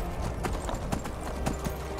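Horse hooves clip-clopping in the Skyrim video game, a steady trotting rhythm set in dense, muffled background noise.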